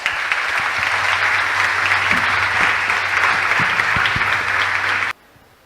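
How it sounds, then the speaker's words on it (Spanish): Audience applause welcoming an award-winning novelist at an evening literary event, a steady, dense burst of many hands clapping for about five seconds before cutting off abruptly. "recibámoslo con un fuerte aplauso"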